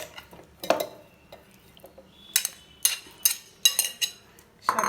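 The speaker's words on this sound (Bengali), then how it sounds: "এখন আমি আমগুলো এই জারে দিয়ে দিব" Amrapali mango pieces dropped into a blender jar in a home kitchen, a series of sharp clinks and knocks, some clustered and some spaced apart, close and fairly quiet between hits.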